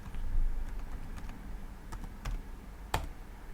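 A password is tapped out on a computer keyboard: a few soft, sparse key clicks close by, then one sharper, louder keystroke near the end, in a quiet room with no speech.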